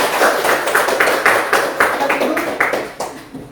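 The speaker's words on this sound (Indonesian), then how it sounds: "Oke, tepuk tangan semua." A classroom of students clapping hands together in a rapid burst of sharp, loud claps that keep a quick, fairly even rhythm and fade slightly toward the end.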